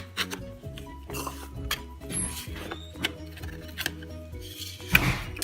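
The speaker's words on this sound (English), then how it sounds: "Just gonna run around the edges of the pan." A knife scraping around the edges of a metal mini heart cake pan, with a series of light scrapes and clinks close by and a sharper metallic tap near the end.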